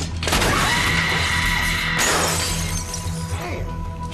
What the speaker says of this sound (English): he gets pumped up when Sarah lets out a glass-shattering scream